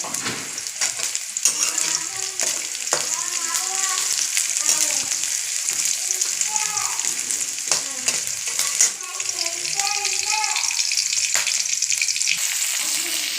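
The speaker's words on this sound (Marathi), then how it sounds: "आपलं वाटण आहे ना ते पूर्ण परतत भाजलं आहे" Ground spice paste, a masala base for a dried Bombay duck (bombil) vegetable dish, fries with a steady loud sizzle in a pan while it is scraped and stirred, with repeated spoon strokes over the hiss.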